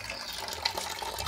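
Water pours steadily into the coolant reservoir of a Fiat E-Torq 1.6 engine after a cooling-system flush, with the engine switched off: a continuous close splashing and trickling hiss lasting the whole moment, with no talk.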